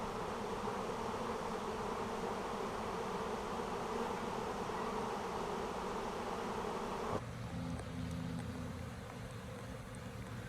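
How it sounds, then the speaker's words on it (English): A wasp buzzes close by near a swarm of bees, a dense continuous droning hum that holds steady, then shifts to a lower, thinner drone toward the end. "Look at this stupid wasp"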